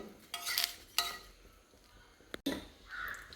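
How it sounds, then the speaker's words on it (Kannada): A fried sago dosa is lifted off the pan, with a few short scraping and clinking bursts of a spatula against the pan and brief metallic taps, close by with quiet gaps in between. "ಸ್ವಲ್ಪ ದೋಸೆ ಫ್ರೈ ಆಯಿತು ತೆಗಿತಾ ಇದ್ದೀನಿ ನಾನು"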